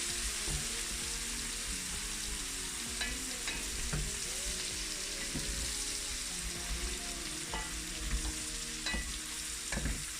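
Onions sizzle steadily in a hot pan for rougail saucisse, a continuous close frying hiss broken by scattered stirring scrapes and clinks, with no talking.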